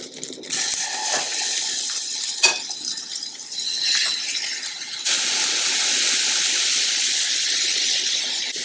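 Second batch of beef for a crockpot stew hitting a hot pan: a few clinks and taps, then a strong, steady hiss of searing that holds loud and even to the end.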